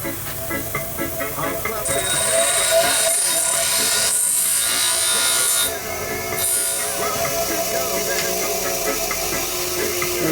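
A hand tool scrapes steadily at the flutes of a plastic air filter from a Panthera Motorsports electric start kit, giving a continuous close, loud rasping hiss with brief pauses midway.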